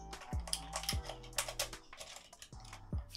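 Enter keycap being pried and slid off a Razer BlackWidow V3 Pro keyboard, giving a few sharp plastic clicks and taps close up, with faint background noise between them.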